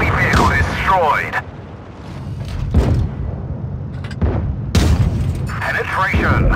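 An enemy tank destroyed by an explosion in the tank battle game World of Tanks Blitz, several loud booming blasts and impacts, with voices speaking over the action.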